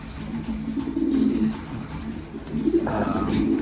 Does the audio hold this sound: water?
no